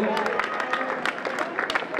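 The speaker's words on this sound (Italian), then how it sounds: "soprattutto perché c'è il pubblico che li applaude" A crowd of spectators applauds runners arriving at the Giro di Trento finish, steady scattered clapping under a voice speaking over a public address.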